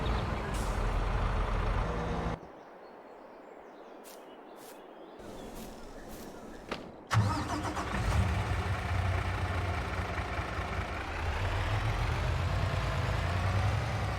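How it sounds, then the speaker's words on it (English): A Mack truck in Farming Simulator 22 rumbles with a steady, loud engine drone, drops to a quieter idle partway through, then surges back up with an air-brake hiss and a continuous heavy hum. "A nice Mack truck."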